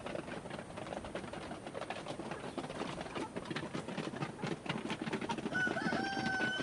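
Chickens clucking and scratching in a busy yard, with a faint crow or high call near the end over steady background noise.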